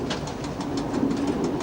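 Cab ride on a train running the Gorizia–Ajdovščina line, a steady rolling rumble with faint rhythmic clicks and a thin high squeal, continuous and fairly loud, with no voices.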